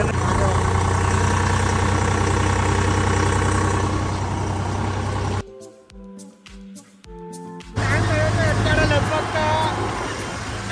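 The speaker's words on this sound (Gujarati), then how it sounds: "ટ્રેક્ટરનો અવાજ વધારે આવતો હતો" A tractor engine idles with a steady low rumble, cutting out briefly midway before resuming, with voices talking over it.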